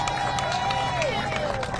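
An outdoor crowd at a monument and plaza unveiling in Chicago cheers for a state senator, with a loud wash of cheering, clapping and shouts and one high sustained whoop running through it.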